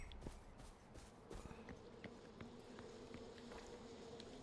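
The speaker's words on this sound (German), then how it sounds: "Das ist Biene." A bee buzzes steadily in the Far Cry 4 game world, a thin sustained drone over outdoor ambience with a few light clicks and footsteps, fairly quiet and continuous throughout.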